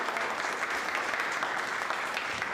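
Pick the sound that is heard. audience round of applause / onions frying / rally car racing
audience round of applause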